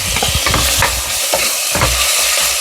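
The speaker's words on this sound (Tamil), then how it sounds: "அதனால் எண்ணெயிலே போட்டு நல்லா வதக்குவோம்." Spices with ginger-garlic paste sautéing in hot oil for biryani, a steady bright sizzle throughout with faint stirring knocks, close and fairly loud.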